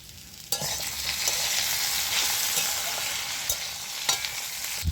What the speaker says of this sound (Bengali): তেলের মধ্যে আমি আলু দিয়ে আলুটা প্রথমে ভেজে নিচ্ছি